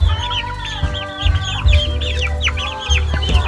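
Young chickens about five weeks old cluck and peep continuously, close and fairly loud, a busy overlapping chatter of several birds with no voices over it.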